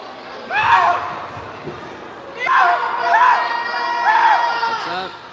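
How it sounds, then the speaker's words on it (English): Crowd at a high school boys basketball game in a gym cheers and whoops in three loud bursts as free throws go in, with shouts ringing over the din and a sharp slam near the end. "And the crowd explodes."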